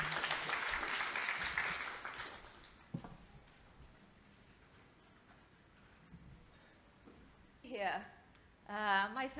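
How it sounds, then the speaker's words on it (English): An audience at a sustainability and technology talk claps for a speaker, a dense round of applause in the opening seconds that fades out, followed later by brief bursts of talk. "shall we give a round of applause to you"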